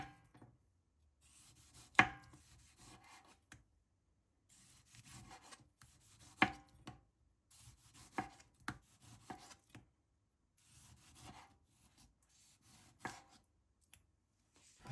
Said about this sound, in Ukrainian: беремо помідори та нарізаємо їх кружечками